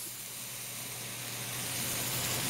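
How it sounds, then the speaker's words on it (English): Stock and white wine hit a hot pan of meatballs, giving a steady, rising hiss of sizzling and steam that fills the short moment with no voices. "It's gonna deglaze the pan and it's gonna steam the balls."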